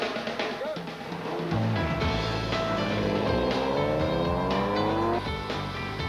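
Rally car on a Safari rally track in 1995, the engine revving up and pulling through rising gear sweeps, loud and close, with someone talking over it.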